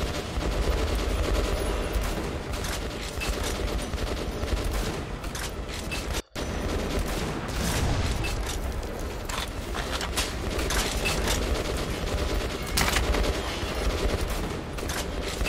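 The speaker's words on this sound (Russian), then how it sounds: "Выстрелил, не увидел." Gunfire in the shooter game Metro: Last Light comes as dense, rapid bursts of shots with heavy booming impacts, loud and continuous apart from one brief dropout.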